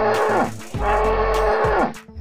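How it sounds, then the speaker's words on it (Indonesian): A young buffalo calf moos near the microphone in two drawn-out, fairly loud calls separated by a brief pause. "Ini ada anak kerbau."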